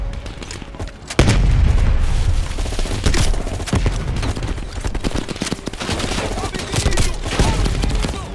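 A grenade launcher explosion in Call of Duty Black Ops Cold War, one loud sudden boom followed by sustained rumbling gunfire and crackling battle noise, with no talking.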